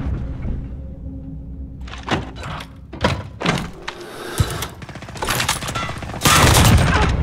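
Call of Duty Modern Warfare gunfire cracks out in a string of sharp shots, starting sparse and building to dense, loud bursts by the end.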